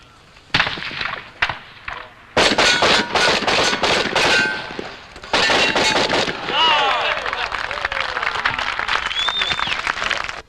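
Rapid shotgun fire at a 1993 world shooting championship, with dense bursts of loud, close blasts in quick succession separated by brief pauses, ending in rolling echoes and scattered shots.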